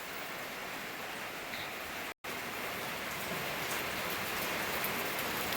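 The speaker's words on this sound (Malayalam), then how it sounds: "നമ്മുടെ ചെടിത്തോട്ടത്തിൽ മഴ പെയ്യണത് കാണാം." Summer rain falls steadily on a small home garden, a dense even hiss of drops throughout, briefly cut by a short gap of silence before resuming at the same soft, close level.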